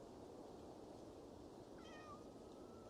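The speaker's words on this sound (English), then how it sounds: "we have cat ASMR as well" A cat gives a single short meow partway through, faint and somewhat distant over a steady background hiss, with no one talking.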